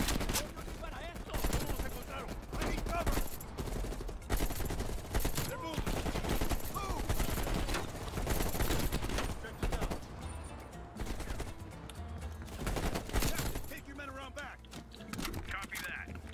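Gunfire in the Call of Duty Cold War video game, with rapid bursts of automatic weapon shots, dense and sustained, mixed with other game sounds and voices talking.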